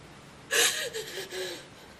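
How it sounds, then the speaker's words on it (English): A woman under DUI arrest draws one sharp, deep breath in for a breath test, a loud rasping gasp that trails into a brief shaky, whimpering vocal sound before fading. "Take your deep breath in, please."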